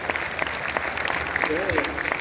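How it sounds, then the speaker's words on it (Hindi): A crowd claps together in sustained, even applause at an Arya Samaj ceremony at Bharat Mandapam, with a voice briefly audible over it. "तालियां बजा के अभिनंदन।"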